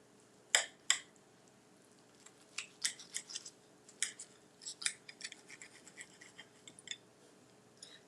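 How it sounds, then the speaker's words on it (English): A bunless beef bacon, egg and cheese sandwich is cut in half, with two sharp crisp cuts near the start followed by a run of quieter scraping and slicing clicks against a plate, with no talk. "All right, so let's cut it in half."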